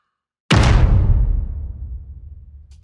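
Layered cinematic strike sound effect: a single sudden, heavy impact with a deep low-end boom that decays slowly over about two seconds, alone with no talk.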